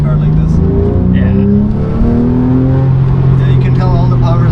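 A light Porsche 911 engine revs while driving, its droning tone climbing and falling in steady pitch sweeps, loud and close as if heard from inside the cabin, with faint voices mixed in.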